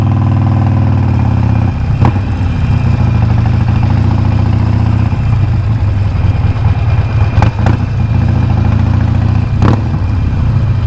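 A Harley Davidson Forty-Eight with a cheap aftermarket exhaust idles loudly and close by, a deep lumpy throb with a few sharp pops and cracks from the pipes breaking through at intervals.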